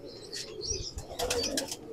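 Pigeons on a rooftop flap their wings in short bursts, close and moderately loud, with a few soft chirps and coos in between.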